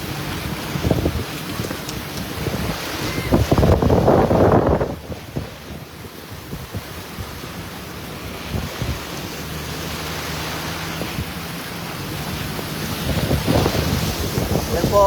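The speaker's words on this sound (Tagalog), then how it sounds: "sobrang lakas ng hangin at ulan" Strong wind and heavy rain during a flood in Masaktor, Makalede: continuous buffeting gusts hit the microphone with rushing, surf-like water noise, loudest near the start and swelling again at the end.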